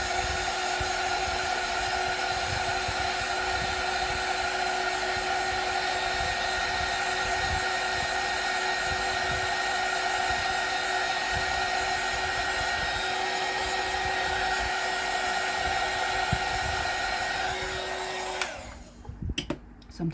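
Hair dryer blowing on a wet watercolor painting of a holiday card, a steady loud whine and airflow held for about eighteen seconds before switching off, no speech.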